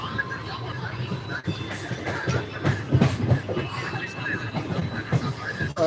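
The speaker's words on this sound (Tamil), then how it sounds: "இன்னும் ட்ரெயின் ரன்னிங் ஆகலை சும்மா ஒரு நாற்பதில் போகுது" A passenger train runs slowly at about forty, with a steady rolling rumble and faint rhythmic wheel clatter heard from inside, while voices talk over it.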